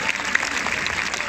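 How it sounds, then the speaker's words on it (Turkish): A brief burst of audience clapping at a gymnastics show, a dense patter of many hands at moderate loudness. "Çocuklarımıza alkışlarımızla moral verelim."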